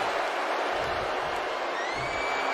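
Steady roar of a wrestling arena crowd in the WWE 2K24 video game, a dense continuous wash of cheering and noise throughout with no distinct voices standing out.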